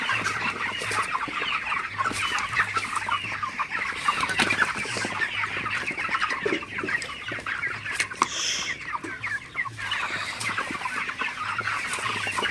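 Broiler chickens cluck and chatter steadily in a poultry shed at night, many birds overlapping close by in a continuous busy din, with no talking.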